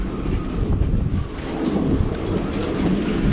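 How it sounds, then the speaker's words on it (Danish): Strong wind blowing outdoors on a sunny day, a continuous low rumbling buffet of wind noise across the microphone, loud and steady throughout. "men det blæser jo en pelikan her"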